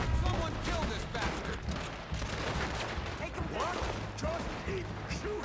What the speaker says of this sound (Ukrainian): Просто продовжуйте стріляти.